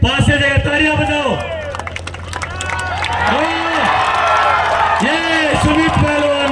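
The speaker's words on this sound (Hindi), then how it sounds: "तालियां बजाओ।" Crowd applause and cheering ring out at a village kushti wrestling dangal in Ugalan, with clapping and whoops rising in waves beneath loud amplified announcer speech and babble.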